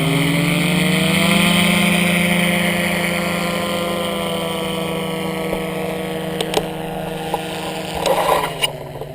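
Full-throttle engine of a small training aircraft during a touch-and-go on a new pilot's first solo flight. A loud, steady droning tone holds throughout, then eases slightly with a few clicks and bumps near the end.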